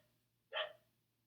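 A dog gives a single short bark, faint and somewhat distant, in an otherwise quiet room with a low steady hum.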